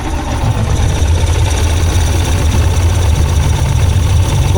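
A rebuilt Yamaha 75hp outboard, uprated to 90hp and run in a test tank at full throttle, gives a loud, steady, dense engine roar that holds unbroken throughout.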